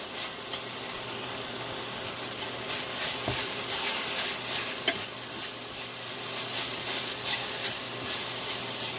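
Ground turkey sizzles loudly in a hot pan while being broken up, a steady frying hiss with scattered scraping and clacks of the utensil against the pan throughout.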